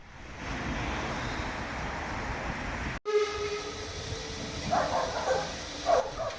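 Sapper, a 0-6-0 saddle tank steam engine numbered 25, works on a lakeside railway with a steady rumble and hiss, a sharp break midway, then rising chuffs near the end.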